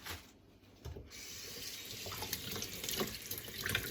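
Kale rinsed under a running kitchen tap, a steady close stream of water splashing into a sink, fairly faint with no voices.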